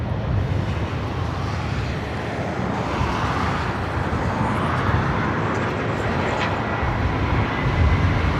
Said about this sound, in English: this is Singapore Airlines flight 11 coming in from, or heading to Tokyo Narita on the 777-300ER